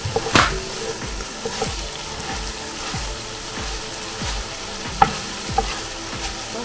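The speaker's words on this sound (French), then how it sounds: "Je vais saler et poivrer. Je mélange bien." Sautéed chicken, just seasoned with salt and pepper, sizzles in a frying pan while a utensil stirs it, making repeated scraping strokes and a few sharp clinks over the steady hiss of fat.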